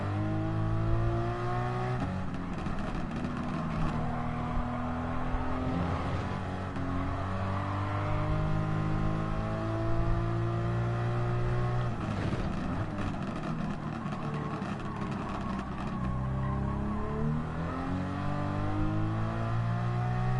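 A racing car engine revs and accelerates in continuous rising and falling sweeps, loud and close, shifting through gears over about twenty seconds with no talk.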